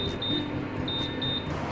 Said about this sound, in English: Set the timer for 30 minutes.